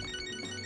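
A phone ringtone in the video game Catherine chirps briefly and faintly, a short electronic tone with no voices over it.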